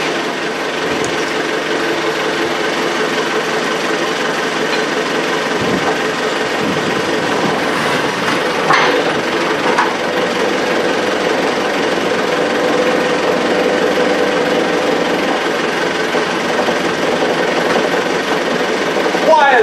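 A backhoe engine runs steadily and loudly nearby while straining to pull the inner tube out of a rear tractor tire on a Case 830, giving a continuous mechanical drone with rattling. Speech is mixed in.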